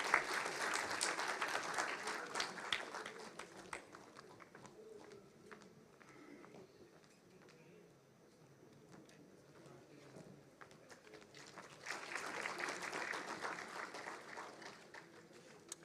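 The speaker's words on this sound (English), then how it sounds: "Let's give a huge round of applause" An audience at a startup conclave claps, a burst of applause that fades to scattered faint clapping and then swells again toward the end.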